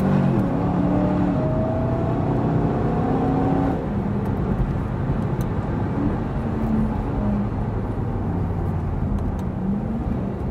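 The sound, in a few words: Cadillac car driving a lap on track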